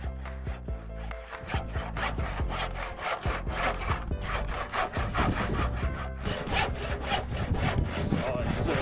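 A dull hand saw cuts off the excess end of a wooden sailboat mast in a storage yard, producing loud, rhythmic rasping strokes close by.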